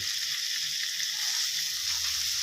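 Marinated pork sizzles steadily as it is stir-fried in a pan for a Thai red curry and bean stir-fry, a continuous close hiss with no talking.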